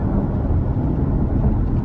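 Engine of a 2015 Chevrolet Corvette C7 Z51 while driving, heard as a steady, loud, low rumble with a constant drone throughout and no talking.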